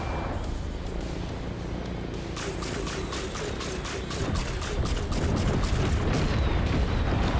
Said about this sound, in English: It uses pistons and logic to accelerate the Bombays into projectiles.